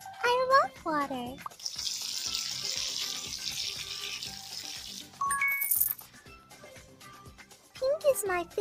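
Water sprays steadily in an animal hair salon kids' game, a continuous hiss lasting several seconds between chirpy cartoon voices and bright game jingles, with a short chime as it stops.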